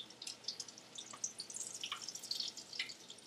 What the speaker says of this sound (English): Let that last little bit of grease drip off of there